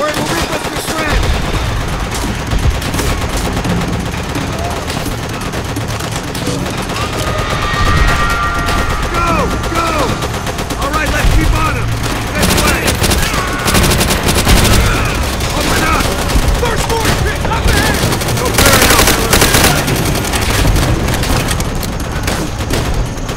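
In Call of Duty: World at War, a machine gun on a hill rakes the battlefield with dense, sustained bursts, mixed with heavy booms and chaotic combat noise throughout, loud and continuous with some voices briefly under it.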